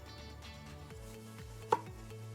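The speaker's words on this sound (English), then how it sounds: "We're just gonna cut that up into slices" A knife slices a fresh tomato on a cutting board, giving a few soft cuts and one louder thunk, faint under tonal background music, with no one speaking.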